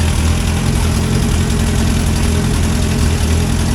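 A 1963 Hillman Super Minx engine idles in a loud, constant low rumble, close by and unbroken throughout, with no talking.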